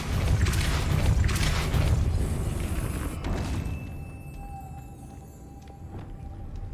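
A Depulso spell cast in Hogwarts Legacy lands as a heavy booming whoosh, loud and dense for about three seconds before fading into a quieter magical hum with faint chiming tones.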